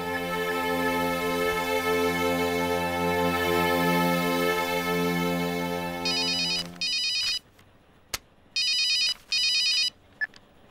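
A telephone ringtone plays loudly as a sustained melodic electronic tone, then gives way to short repeated bursts of bright electronic ringing separated by brief pauses.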